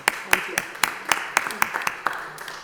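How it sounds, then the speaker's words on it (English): Audience clapping at a city council meeting, a short run of sparse, distinct hand claps from a small group, moderately close and fading out within a few seconds. "we're going to give you a clap."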